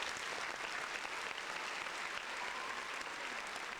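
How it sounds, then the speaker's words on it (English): A live audience breaks into steady applause for Kevin on a comedy podcast, a dense, even wash of many hands clapping at once, sustained throughout without talk over it. "Round of applause for Kevin."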